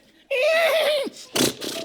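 A man on a comedy talk-show stage imitates a horse neigh as a mock insult. One loud, wavering, drawn-out whinny falls in pitch, then a short breathy snort follows.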